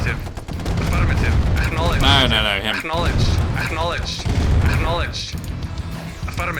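Units firing at aircraft in Command & Conquer Red Alert, a dense continuous barrage of game gunfire and explosions, loud and close, with someone talking over it throughout.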